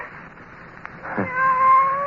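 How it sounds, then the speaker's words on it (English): A cat meows once, close and clear, in a quiet indoor space. The meow rises and then holds a drawn-out, slightly wavering tone after a faint tick. "It's you, Kitty."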